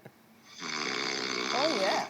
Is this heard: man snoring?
yes